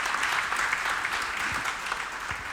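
A church congregation applauds to acclaim the Lord, a steady, fairly faint patter of many hands clapping together without pause.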